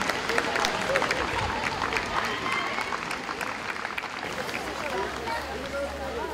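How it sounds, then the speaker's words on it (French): Crowd of locals and tourists applauding at the Fête des Hortillons in Amiens' Saint-Leu quarter as vegetable-laden boats arrive, a dense outdoor clapping with crowd babble mixed in, fading slightly toward the end. "Les picards et les touristes adressent des applaudissements chaleureux aux ortillons en remerciement pour la qualité des légumes"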